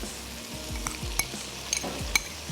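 Achaari baingan with cheese is stirred in a sizzling pan, a spoon scraping in slow, repeated sweeps over steady frying, with a few sharp metallic clinks against the pan.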